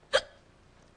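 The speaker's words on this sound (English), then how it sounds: "Do you have the hiccups?" A single sharp hiccup, close and fairly loud, with a quick burst and short decay, followed by quiet.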